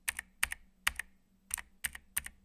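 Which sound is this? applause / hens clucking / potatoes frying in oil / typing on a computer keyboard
typing on a computer keyboard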